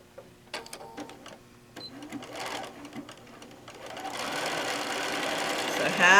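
A sewing machine stitches the top seam of a fat quarter bag with a half-inch seam allowance, starting with a few scattered clicks and short bursts, then settling into a steady, louder whirring run near the end.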